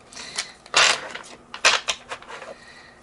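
A new deck of standard playing cards is shuffled and bridged nearby, giving bursts of crisp riffling clatter and snaps separated by brief pauses.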